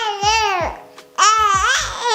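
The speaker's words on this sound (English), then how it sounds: "Babies at this stage also start to do something else, babbling." A baby babbles in two bursts of repeated vowel-consonant syllables, loud and close, with a brief pause between them.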